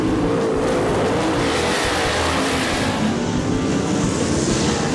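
Race cars roar around the track at East Bay Raceway Park in Tampa, a steady loud engine drone filling the whole stretch with no break.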